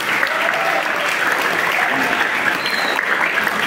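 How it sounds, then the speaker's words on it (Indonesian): Audience applause for teachers at a Teacher's Day gathering at a modern Islamic boarding school, steady dense clapping filling the whole stretch at an even, fairly loud level with no voices on top. "Tepuk tangan untuk guru-guru kita, ada ustaz-ustazah kita."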